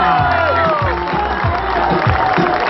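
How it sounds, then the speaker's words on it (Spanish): Crowd applause and cheering as couples walk onto the runway at a graduation dance, a dense, steady roar of clapping with whoops, close and loud, with voices mixed in. "Fuerte el aplauso."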